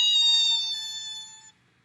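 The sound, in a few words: voice imitating car brakes screeching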